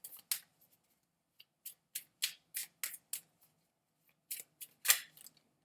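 Tarot cards being shuffled and drawn from a deck during a reading: a quiet, close run of crisp papery slaps and riffles in uneven bursts, with short pauses between them and no voices.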